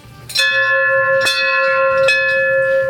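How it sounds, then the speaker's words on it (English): A bell struck three times, each loud clang ringing on with a sustained metallic tone that overlaps the next strike. "ring the bell, Bob."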